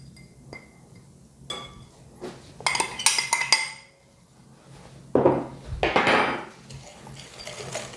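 A whisk clinks against a bowl while sugar is mixed into cornmeal cake batter with guava paste, giving bursts of rapid clinking and scraping separated by quieter pauses.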